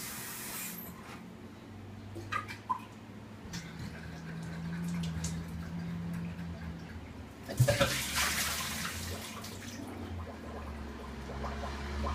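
Water draining and splashing while a hookah is cleaned out, a soft continuous trickle with occasional drips and rubbing noises, swelling into a louder gush partway through.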